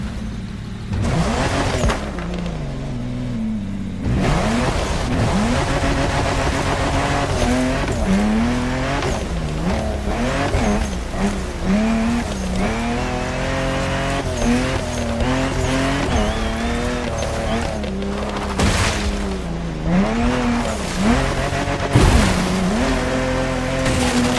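Ferrari sports car in The Crew Motorfest racing game, engine note rising and falling steadily through shifts with tire squeal and skidding, loud and continuous throughout.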